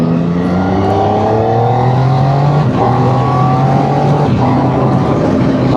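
A Triumph three-cylinder motorcycle engine pulls steadily while riding, a continuous throaty drone with rising pitch and brief dips at gear changes, heard up close over constant wind rush.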